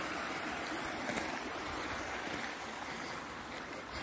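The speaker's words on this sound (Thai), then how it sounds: "ระหว่างที่เราเดินนะคะทุกคนก็มาเจอน้ำไหลนะน้ำตกเนาะ" Steady rush of flowing water, like a small waterfall nearby, a continuous even splashing hiss with no other sounds.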